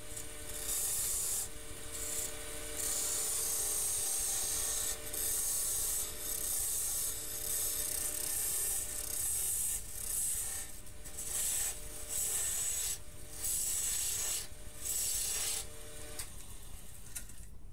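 Wood lathe turning a pear held firmly in a chuck, with a steady hum and continuous hissing scrape as the tool hogs off stock, broken by brief rhythmic pauses in the cutting.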